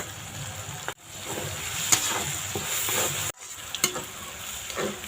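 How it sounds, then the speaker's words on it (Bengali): Mixed vegetables fry and get stirred in a pan for village-style mixed fried rice: a steady close sizzle with scraping strokes, broken by two brief silent gaps. "সবজিটা ভালো করে ভেজে নিয়েছি"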